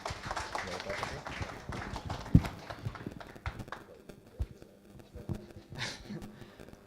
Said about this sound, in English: I'd like to everyone to just give him a round of applause